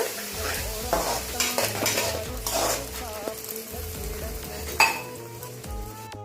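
A spoon stirs and scrapes through a Hyderabad-style Lingaiya chutney mixture with tamarind water in a pan, giving repeated scraping strokes, light sizzling and a sharp clink of utensil against metal.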